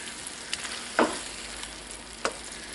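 Taco meat simmers in a pan after a jar of hot salsa is added, giving a faint, soft sizzle broken by a few light stirring scrapes and clicks.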